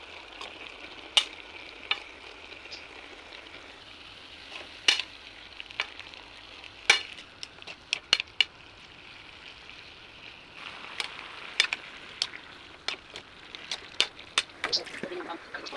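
Vegetables and bihon noodles stir-fry in a hot pan, giving a steady sizzle under scattered sharp clicks and taps of a utensil against the pan.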